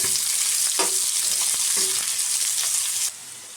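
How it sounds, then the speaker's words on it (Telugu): Chopped onions fry in a pan with a strong sizzle, broken by a few stirring scrapes and clicks. The frying stays close and fills the clip, then drops off a little near the end. "ఇప్పుడు తరిగి పెట్టుకున్న ఉల్లిపాయలు వేసేసుకోవాలి ఇవి బాగా గోల్డ్ కలర్ వచ్చేంత వరకు వేయించుకోవాలి"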